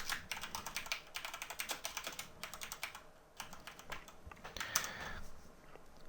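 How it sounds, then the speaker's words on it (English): Quick, steady typing on a computer keyboard, close, soft clicking keystrokes in fast runs with a brief pause midway, no voices. "So I can type that here."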